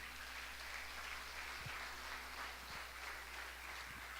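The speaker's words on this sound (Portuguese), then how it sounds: "Quem pode dar uma salva de palmas para o Senhor?" Congregation at a church service clapping together, a steady diffuse wash of applause held at a constant level, with a low hum underneath and a few faint thumps.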